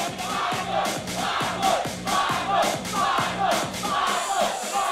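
A boxing crowd at a fight roaring and cheering as it is hyped up, a loud dense wall of voices that swells in repeated waves, with a rhythmic pounding under the shouts.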